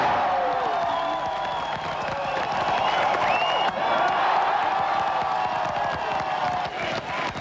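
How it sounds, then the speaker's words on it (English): A large crowd in West Berlin at the Wall shouts and cheers ecstatically in a continuous, roaring swell of voices, with whoops rising above the steady din. "Watching from West Berlin as they've done for several hours, the crowd shout ecstatically"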